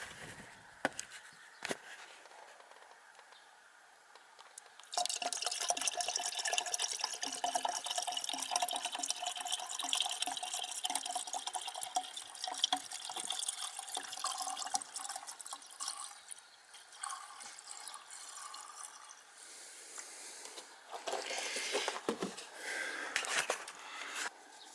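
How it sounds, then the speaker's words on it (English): Coolant pours steadily into the expansion tank of a Jaguar XK 5.0 Portfolio Coupe, a close, continuous liquid gush and splash that starts after a few quiet seconds of faint handling noise and runs to the end with small drips and gurgles. "we're going to fill it up with fluid first, coolant first"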